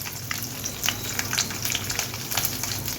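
Onions fry with dried red chillies and ginger pieces in hot oil, giving a dense, steady crackling sizzle close by that carries on throughout without a break, with no voices.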